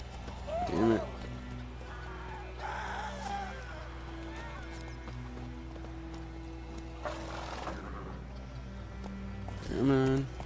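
A horse in The Witcher 3 gives a couple of short whinnies near the start and end, with faint hoofbeats and ambient game sound between, all fairly quiet.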